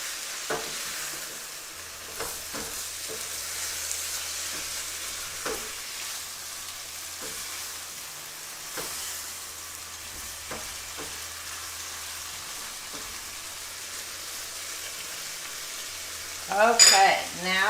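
Chicken sizzling in a hot pan with lemon juice as it is stirred, a steady crackling fry broken by scraping stir strokes, with a brief louder clatter near the end.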